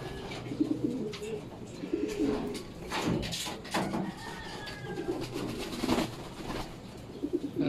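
Racing pigeons coo steadily at a loft in soft, repeated throaty phrases. Wingbeats and faint bird chirps come and go around them, all fairly close.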